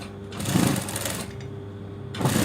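A sewing machine stitches a plastic zipper in two bursts, a steady loud mechanical whir with a short pause between runs, close up and with no talking.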